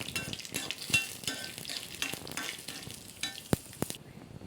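Urad dal and cumin seeds fry in a pan for papaya sambar while a spoon stirs them, producing a soft, crackly sizzle broken by quick scrapes and taps of the utensil, fairly quiet and close, ending abruptly.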